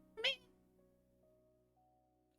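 A person imitates a cat with a short, bright meow, followed by a quiet hum and near silence before another voice starts at the very end.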